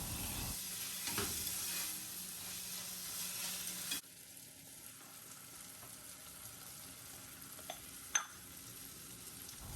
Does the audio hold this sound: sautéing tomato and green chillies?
yes